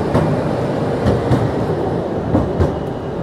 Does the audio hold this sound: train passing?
yes